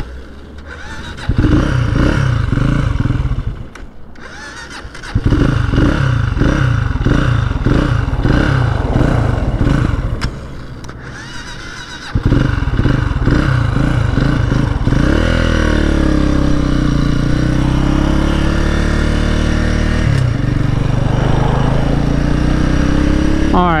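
A 2019 Genuine G400C cafe racer motorcycle idles with a loud, close, chugging single-cylinder thump, then revs and pulls away into a steady riding drone, with brief pauses between runs.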